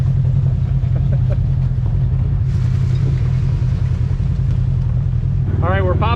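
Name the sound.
RV engine driving off-road in low gear through a canyon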